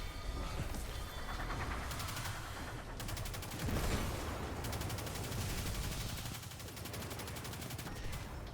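Gunfire in the video game Destiny, sustained rapid automatic shooting with dense overlapping bursts and mechanical clatter, steady and fairly loud throughout with no voices.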